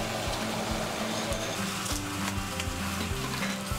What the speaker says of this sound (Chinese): 加点米酒和盐巴，以半煎半蒸方式料理的干锅小卷